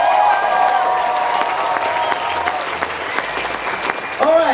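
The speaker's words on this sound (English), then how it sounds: "can you please give a big round of applause to our duck combatants?" Audience at a folk festival circus and Morris performance claps loudly and continuously, with crowd noise and a few cheers mixed in and a voice briefly audible near the end.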